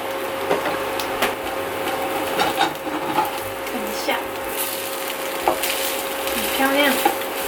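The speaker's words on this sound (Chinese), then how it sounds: "中火给它稍微煎一下上色。" An onion omelette browning in a pan over medium heat gives a soft continuous sizzle with occasional light scrapes and taps from a utensil, heard close up.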